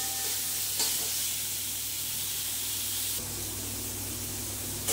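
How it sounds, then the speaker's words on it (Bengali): Raw green mango being stirred and sautéed in a hot pan for a Bengali mango jhol, with a steady loud sizzling hiss and faint stirring, with no voices. "এটাকে সুন্দর করে একটু কষে নেব"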